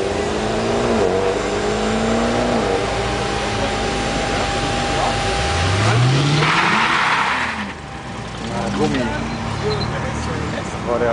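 A drifting car at the 2010 Tuner GP Drift Challenge at Hockenheimring, its engine loud and revving with a rising sweep midway, while people talk over the steady track noise.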